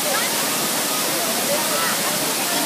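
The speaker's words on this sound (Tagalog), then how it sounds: "Yung sikat na falls, Culaba, Tinago Falls." Tinago Falls in Culaba, Biliran, Leyte, pours in a loud, constant hiss of falling water that fills the whole short stretch, with voices faintly mixed in.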